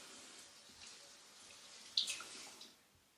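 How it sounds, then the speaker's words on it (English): A kitchen tap runs softly while hands are washed before mixing sticky bread dough by hand, a faint steady water rush with a brief splash near the middle. "it's important at this time to wash our hands because we need to mix it by hand"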